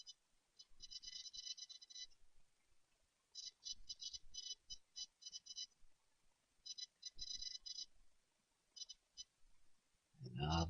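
A phone rings in repeated short bursts of bright electronic tones, trilling quietly in separated groups with pauses between them, ending as someone starts talking.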